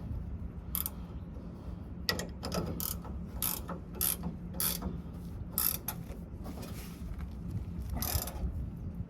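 A hand ratchet clicks in bursts while tightening a leaf spring bolt on a 2006 Toyota Tacoma, with sharp pawl clicks in irregular groups separated by short pauses, close and alone.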